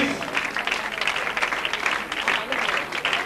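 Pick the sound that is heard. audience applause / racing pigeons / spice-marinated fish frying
audience applause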